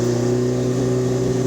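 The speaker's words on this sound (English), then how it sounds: "I love the exhaust note." Steady exhaust note of a 1976 Alfa Romeo GTAm track car on a test drive, a loud, close, continuous engine drone holding a constant pitch with no talk.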